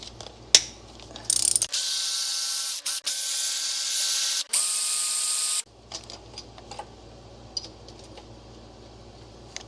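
A ratchet clicks in short bursts while fasteners come off the front of a 1973 Mercedes R107 450SL engine, with a loud hissing spray-like burst in the middle and quieter handling noises around it.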